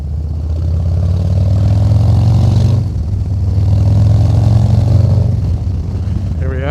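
A 2023 Harley-Davidson Low Rider ST with the 117 engine idles loud and close, a deep steady rumble that swells slightly in two long stretches, with no talking over it.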